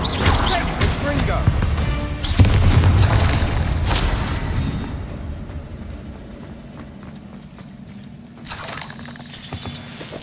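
A Confringo fire spell in Hogwarts Legacy goes off with a heavy booming blast and crashing debris, loud and close, then fades into a rumbling tail while a voice talks over it.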